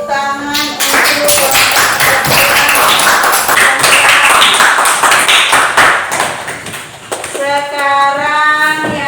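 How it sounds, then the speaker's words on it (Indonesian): Students in a classroom clap in a dense burst of applause for a presenting group, lasting several seconds, with voices heard briefly before and after. "Iya, tepuk tangan untuk"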